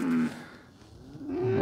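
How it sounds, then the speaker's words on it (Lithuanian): Cattle mooing on a Lithuanian farm, two close, loud lowing calls, one at the start and another rising toward the end, with a brief quiet gap between and no talk. "Karvis išėjai griaužti žolės."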